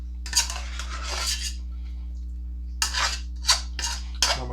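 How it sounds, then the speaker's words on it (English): A utensil scrapes and clinks against a pan as vegetables are gently mixed with potatoes for a Cajun andouille sausage dish, several soft scraping strokes close by, separated by pauses. "As I mix these vegetables in with these potatoes, I kind of gently do it just so my potatoes don't break up on me."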